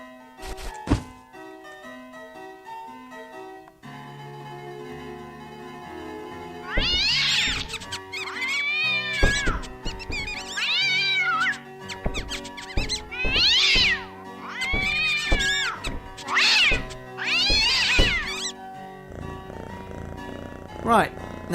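A cat in the video game Simon the Sorcerer 3D lets out a series of loud, drawn-out meows and yowls over game music, with thumping knocks scattered between the cries.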